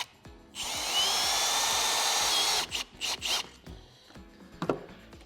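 A drill drives Camo hidden deck fasteners into deck boards with its dedicated bit and guide, one long steady whine of about two seconds, then several short bursts as each screw is run down tight, close and loud.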